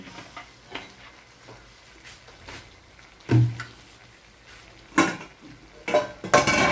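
Sotanghon guisado being stirred in a pan after a splash of soy sauce: light clinks and scrapes of a utensil against the pan, scattered and close, with a few louder knocks and a faint sizzle beneath.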